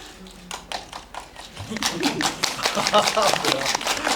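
An audience applauds at a Korean movie talk event for the film 'Cabriolet', with a few scattered claps early on that swell into dense, steady clapping filling the room.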